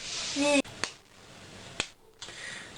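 A six-year-old boy claps a few times, each clap a sharp, isolated smack spaced irregularly in a quiet room, with a short burst of voice before the first one.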